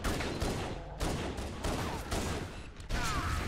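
Rapid bursts of weapon fire in Halo: Combat Evolved on Legendary difficulty, the Pillar of Autumn level, with repeated loud shots and short gaps between volleys.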